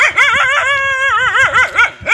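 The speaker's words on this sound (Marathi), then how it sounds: "कुत्रा भुकत आहे" A dog near a hillside settlement gives loud, close, whining yelps and high tonal barks in a quick, uneven series.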